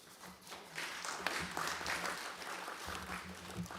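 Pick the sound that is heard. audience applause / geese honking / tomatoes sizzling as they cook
audience applause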